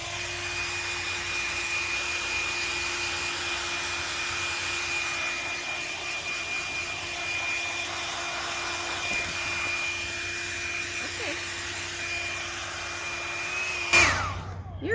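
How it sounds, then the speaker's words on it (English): A hair blow dryer whirs in a constant, steady drone while drying a newly hatched chick, running without a break until a brief clatter near the end. "you don't put the blow dryer too close to your scalp or too close to her"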